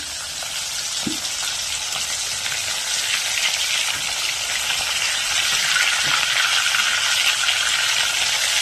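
Fish fries in a wok with a loud, steady crackling sizzle up close, broken by a single clunk early on, with no voices.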